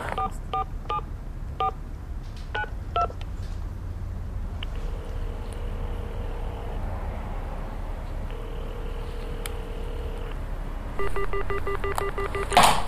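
Keypad tones beep in quick irregular bursts as a telephone is dialed, followed by a long pause, two ringback tones and a rapid run of further beeps, close and loud over low hum.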